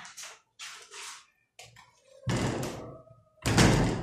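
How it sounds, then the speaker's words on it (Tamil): Someone tries to open a locked door, with a few brief knocks or rattles first and then two loud, rough bursts of banging and shaking against the door. "அந்த கதவை திறக்க முடியுமான்னு பாரு"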